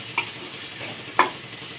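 Tomato pieces frying in a pan with ginger and turmeric, a soft continuous sizzle broken by two brief sharp scraping stirs.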